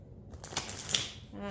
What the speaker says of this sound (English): So if I use the small cards, I get to shuffle normally